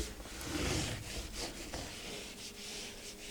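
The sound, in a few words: wiping plastic trim with a microfiber cloth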